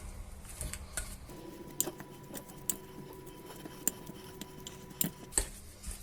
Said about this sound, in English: next I'll get a fork and just mix everything in